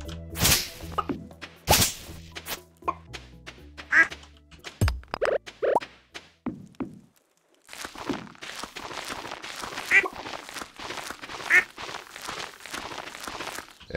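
Ducks quacking in the farming video game Stardew Valley, small quacks and short whooshes over game sound effects, first sharp whip-like hits and footstep taps, then a denser busy stretch of game noise.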